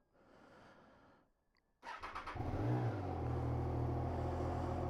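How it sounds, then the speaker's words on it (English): A Triumph Trident 660 motorcycle, clutch held in, cranks and fires up after a brief quiet spell, then settles into a loud, steady idle rumble close by. "this is my Triumph Trident 660"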